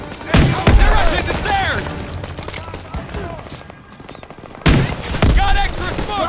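Rapid bursts of rifle and machine-gun fire from a World War II shooter game, sustained and loud, with shouted voices calling over the battle noise.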